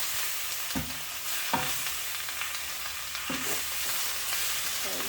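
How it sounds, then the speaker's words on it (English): Vegetables and prawns sizzle and hiss steadily in a hot pan for a stir fry, with a few louder stirring scrapes breaking through the constant frying noise. "frying it all together."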